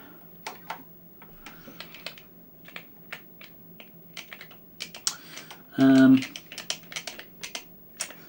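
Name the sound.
pressing keys on an Amstrad 464 Plus computer keyboard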